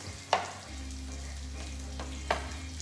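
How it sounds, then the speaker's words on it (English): Sea bass fries in a pan with a soft, steady sizzle heard close up, broken by two brief louder scrapes or stirs. "I'm gonna cook the fish on the first side and then I will add the lovely Puttanesca flavors"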